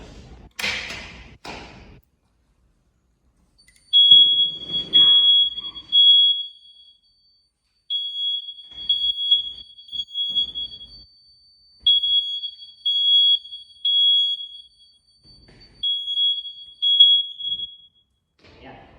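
A Honeywell fire alarm system under test, integrated with a ZKTeco access controller and door magnetic lock, sounds a high electronic alarm tone in repeated bursts of about three seconds, preceded by a few thumps.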